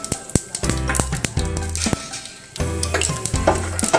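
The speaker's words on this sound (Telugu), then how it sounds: "వేసి ఒక సెకండ్ వేయించుకోవాలి" Seasoning seeds and peanut powder frying in a hot pan for semiya upma, a loud crackling sizzle broken by sharp metallic spoon scrapes and taps against the pan.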